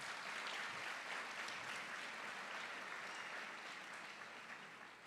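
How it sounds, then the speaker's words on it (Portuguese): Applause from a church congregation during a Portuguese-language service on family, a steady wash of many hands clapping together, fairly faint and distant, fading slightly toward the end with no talking over it. "Você pode dar uma salva de palmas a Jesus?"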